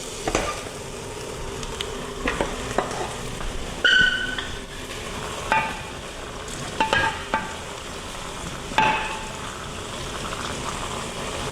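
Meat sizzles steadily in a hot pan, with occasional louder crackles and spatters over a constant frying hiss.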